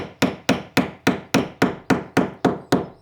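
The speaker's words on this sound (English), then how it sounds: "I could nail it into each of the rafters above using these poly pins" Ten evenly spaced hammer blows drive poly pins through roofing sheets into the rafters of a workshop roof, each a sharp, loud, close strike with a brief ring, with no talking.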